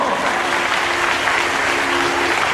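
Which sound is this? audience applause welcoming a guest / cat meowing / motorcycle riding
audience applause welcoming a guest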